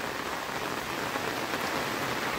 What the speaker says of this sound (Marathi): तुमका दाखवतंय कशा पद्धतीने पाऊस पडता तो गावी ह्या